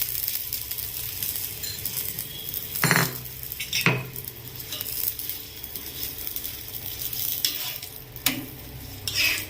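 Wheat parotta cooking on an oiled pan with oil poured on, giving a steady close-up sizzle and a few sharp clinks of a utensil against the pan, with no talking.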